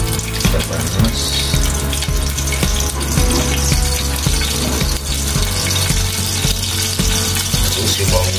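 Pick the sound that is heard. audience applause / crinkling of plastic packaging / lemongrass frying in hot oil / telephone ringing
lemongrass frying in hot oil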